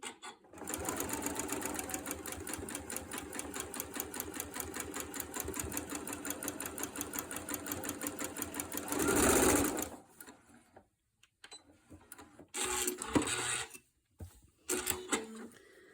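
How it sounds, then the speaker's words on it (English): A sewing machine races through a quilt seam on nine-patch pinwheel blocks, a fast rhythmic close-up stitching chatter for about nine seconds, then stops, followed by a few short bursts of handling noise. "we can just kind of go a little bit faster and finish this seam"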